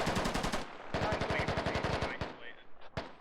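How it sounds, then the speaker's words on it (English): Bursts of rapid automatic machine gun fire in a military shooter game modded with Ops, with a long rattling volley in the middle, shorter bursts and single shots near the end, loud and close. "Keep shooting, keep shooting."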